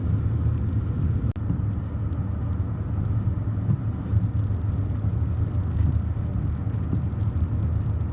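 Steady car traffic rumbling in a highway traffic jam, a continuous low drone of idling and slow-moving vehicles with no voices.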